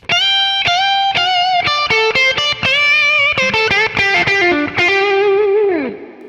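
An electric guitar with distortion and effects plays the third lick from a song, a quick run of bent and sustained notes ending in a long fading note, loud and close with no speech.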